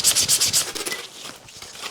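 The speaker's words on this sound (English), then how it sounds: "now this is the final sand down before we do the painting" Sandpaper rubs back and forth across scrap wood in a final sanding before painting, a close, rhythmic scratchy rasping that is strongest at first and then becomes softer and more irregular.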